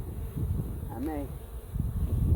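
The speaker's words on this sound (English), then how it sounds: "Look at all those bees." Honey bees buzz around a newly installed hive, a steady low insect drone close by with a brief higher whine rising and falling through the middle.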